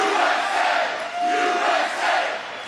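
Large rally crowd at an event in Derry, New Hampshire roars and cheers continuously, a dense sustained wash of voices and shouts swelling and dipping slightly, with no speech over it.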